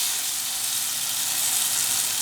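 Masala roasting in a pressure cooker while cooking chicken curry, giving off a steady, bright, close sizzling hiss with no break and no voices over it.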